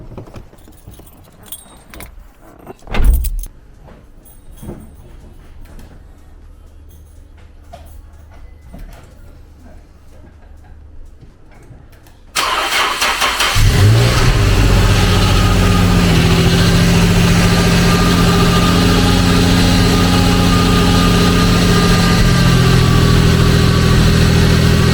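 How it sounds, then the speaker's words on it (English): A Nissan 380RS fitted with a new exhaust is started after some faint rattling and a brief clunk, then settles into a loud, steady idle that holds close and alone to the end. "I put another exhaust on the car, so I'm going to fire it up"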